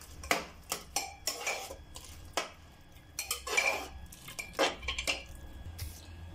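Beef curry being mixed in a pot, a metal spoon scraping and clinking against the sides in a steady run of close, sharp strokes with brief pauses between them.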